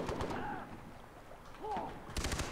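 Gunfire in Far Cry 3, a few loud, sharp shots at the start and a clustered burst at the end, with voices talking in between.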